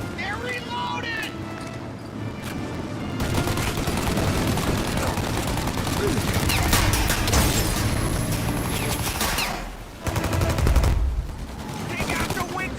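Rapid bursts of gunfire from a 1930s-style shootout in Mafia: Definitive Edition, dense machine-gun fire and shots running almost continuously at high volume, with a brief lull near the end before firing resumes.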